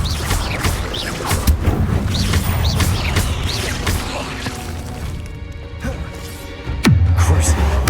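A Harry Potter video game battle in a cave brings a series of crashing, thudding blasts and impacts, followed by a bigger booming hit near the end, with voices talking over the fighting.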